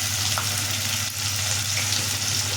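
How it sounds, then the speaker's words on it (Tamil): Onion and garlic sauté with salt in a pan, giving off a dense, continuous sizzle that stays close and even throughout. No voices. "அதில் போட்டால் கொஞ்சம் சீக்கிரம் வெங்காயம் பூண்டு வதங்கும்"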